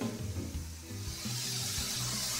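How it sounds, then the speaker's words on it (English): An eye of round steak in a merlot barbecue marinade sizzles on a grill, a steady close hiss and crackle with low handling bumps underneath. "Sizzle, sizzle."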